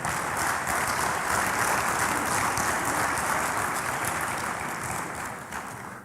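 Voting delegates at the 33rd AFC Congress give a sustained round of applause in a large hall, dense even clapping that holds steady and then tapers off at the end.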